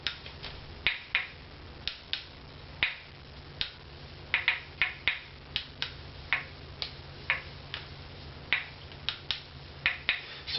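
A violin tailpiece on an Opus 'Nathan' violin is tapped for acoustical tap tuning, giving a long series of sharp, light ticks at an irregular pace, moderately close, with no talking.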